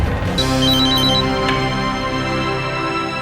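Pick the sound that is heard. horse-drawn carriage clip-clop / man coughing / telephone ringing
telephone ringing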